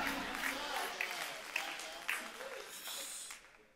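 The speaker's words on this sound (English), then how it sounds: "I thought y'all would clap a little bit better than that." A church congregation claps in scattered, uneven bursts during a sermon, moderately close, with voices mixed in around the applause.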